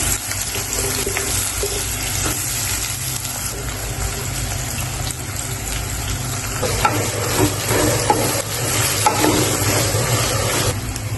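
Chopped onion tipped into hot oil with whole cumin, bay leaf and cloves, producing a loud, dense, continuous sizzle that swells slightly as stirring continues, with occasional scrapes in the pan.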